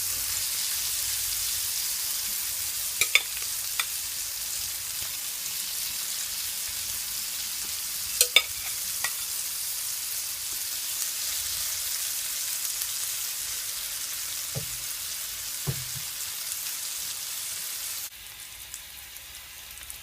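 Seafood gumbo ingredients browning in oil in a pot, a steady soft sizzle running throughout with a few faint clicks and taps, no talking.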